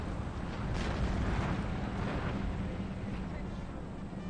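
Cannon and musket fire in a Napoleon: Total War battle rolls as a continuous distant rumble of overlapping booms and crackle, with no distinct single shot standing out.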